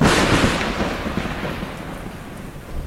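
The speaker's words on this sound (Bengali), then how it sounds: "বৃষ্টি শুরু হলো প্রবল বেগে। আর হঠাৎ কাছাকাছি ভয়ঙ্কর গর্জনে একটা বাজ পড়ল।" A heavy rumble of thunder fades into a steady downpour of rain, loud and close, with no voices.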